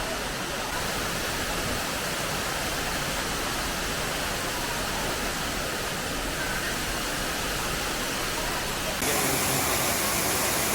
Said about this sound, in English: We are about to walk underneath the waterfall.